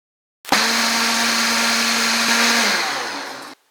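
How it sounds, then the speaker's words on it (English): A blender grinding material into a fine powder starts abruptly and runs loud for about three seconds, its motor whine steady, then winds down and stops. "so we're going to run it through the blender once."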